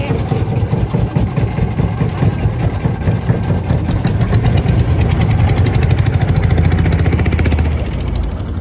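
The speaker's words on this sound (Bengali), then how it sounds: "এই ট্রলারের এত শব্দ যা বলার মতো না" A trawler boat engine runs loud and close on a river trip near Barisal, a steady, heavy mechanical drone with a rapid throbbing rhythm that holds throughout, with no voices.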